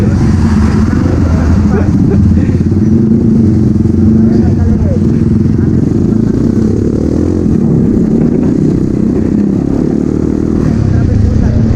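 A Bajaj Pulsar 180 motorcycle on an afternoon street in Gandus, Palembang gives a loud, close, steady engine rumble with rattling road noise that runs the whole time, with no break or fade.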